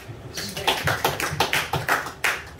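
Church congregation clapping hands together in a series of distinct claps at a retreat service, fairly close and moderately loud, with no talking over it.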